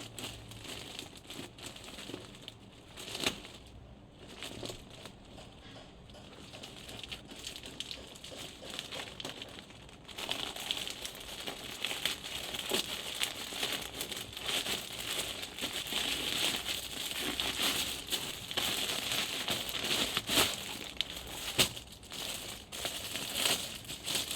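Packaging for elastic bed sheets crinkles and crackles close by during an unboxing, with irregular handling rustles that grow louder and denser partway through and continue to the end.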